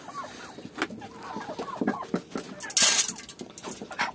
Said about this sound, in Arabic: برضه الفراخ تجي هنا وهنا